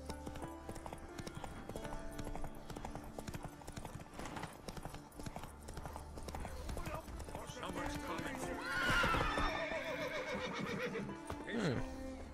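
Roach, a horse in the video game The Witcher 3, gallops with rapid rhythmic hoofbeats and gives a loud whinny partway through, while someone speaks over the action.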